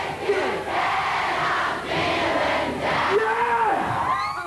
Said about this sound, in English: It was the day Woodstock-like crowds came to the waterside.